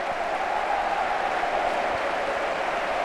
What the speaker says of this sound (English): the Palermo fans are applauding their team